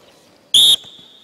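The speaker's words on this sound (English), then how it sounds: "On the whistle." A single sharp referee-style whistle blast during a basketball team defence drill, loud and close, lasting about a quarter second before a faint ringing tail in the gym.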